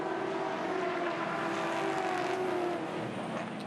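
V8 Ute race cars lap the Winton circuit on the final lap of a 2017 race, producing a steady, sustained engine whine at moderate distance that holds for several seconds before easing slightly.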